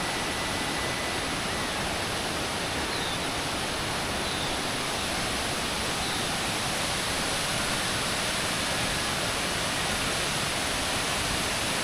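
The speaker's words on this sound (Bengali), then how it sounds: "ম্যাক্সিমাম চলে এসেছি রানী ডুডুমা ওয়াটারফল" Rani Duduma waterfall pours with a constant, dense roar of rushing water, loud and close, with no variation and no voices.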